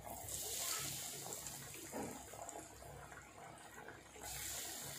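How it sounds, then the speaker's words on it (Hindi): Potato and cheese bites fry in hot oil in a kadhai, giving a soft, steady sizzling hiss that stays quiet and even throughout. "तो ये ऑयल हमारा गर्म हो चुका है। इस तरह हम एक एक करके इसमें डाल देंगे"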